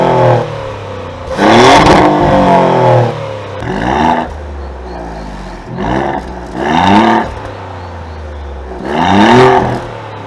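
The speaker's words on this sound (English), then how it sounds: "you guys are gonna hear what this Maserati Trofeo can do for the Granturismo." A 2024 Maserati GranTurismo Trofeo engine is revved hard at close range in four or five loud, sharp bursts, each rising and falling back to a rumbling idle between blips, with no talk.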